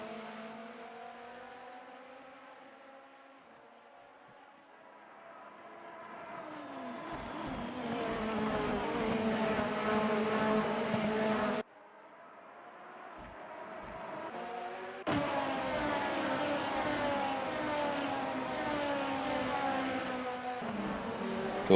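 Super Formula race cars in the Assetto Corsa racing game at Bahrain scream down the back straight, engines climbing through gears with sharp upshift breaks, loud and close throughout.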